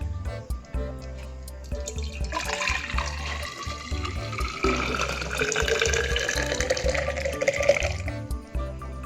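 Blended tomato and carrot juice drains and splashes into a container, a steady liquid gush and trickle that builds after a couple of seconds and continues close up, with faint clinks around it.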